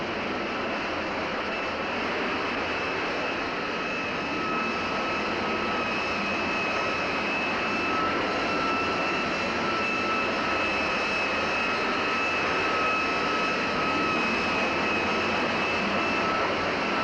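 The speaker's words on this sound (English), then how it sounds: "The catapult officer touches down, and the shuttle shoots forward, dragging the plane behind it." A loud continuous jet engine roar from a US Navy jet fighter on the deck of the aircraft carrier USS Franklin during a catapult launch, a steady, dense rush with a high whine and no break.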